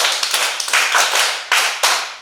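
A class of schoolchildren claps for a boy during a classroom lesson, a dense burst of hand claps close by that fades and then returns in two fresh sharp surges, with no talk over it.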